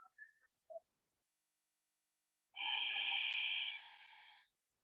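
One long, hissing ujjayi yogic breath with a throaty, whistling rasp, drawn steadily for about two seconds during a yoga class. It sounds close and alone, and a few soft, brief sounds come before it.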